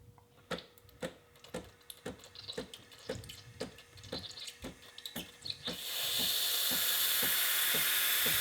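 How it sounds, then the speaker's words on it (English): The steam wand of a Breville Infuser espresso machine starts up: a run of sharp regular clicks and pumping pulses, then a loud, steady hiss of steam bursting out and holding to the end. "you'll see steam start coming out of the wand"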